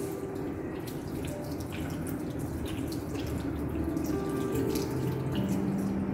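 Tap water runs steadily into a sink while hands are rinsed, a continuous close splashing wash with faint dripping textures and no talking.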